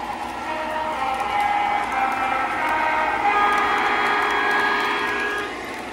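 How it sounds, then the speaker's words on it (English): Lionel and MTH model trains, including a Lionel TMCC Freedom Train, run together on one track loop, making a steady whirring rumble with a faint tonal whine that carries evenly throughout. "So we have Lionel and MTH on the same loop."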